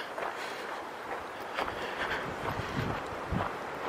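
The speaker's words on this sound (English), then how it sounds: "Very windy." Gusty wind roars across the microphone on a hike in the New York Pine Barrens, a steady rushing bluster with a few stronger gusts, no voices.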